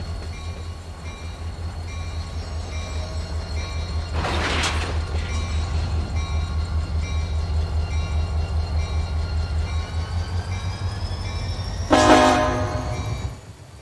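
A freight train shoves cars in the Run 8 railroad simulator: a steady low diesel rumble and rolling drone runs throughout, with two sharp bursts of horn or brake hiss standing out, one midway and one near the end.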